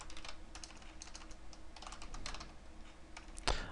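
Fingers tap quietly on a computer keyboard in an uneven stream of soft clicks, heard alone at low level, with one sharper thump near the end.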